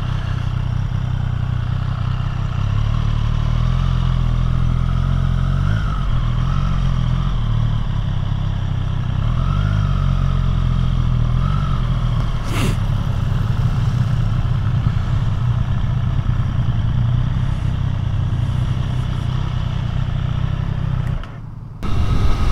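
A 2024 Triumph Street Triple 765 RS ridden home after its 600-mile service gives a steady, loud engine drone with small shifts in pitch, heard close and continuously, with a brief drop near the end.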